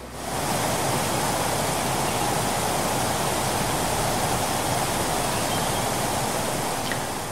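Bhambavli Vajrai waterfall near Satara, a very tall three-tiered cascade fed by the Urmodi river, roaring as a steady, loud broadband rush of falling water that holds unbroken for the whole stretch.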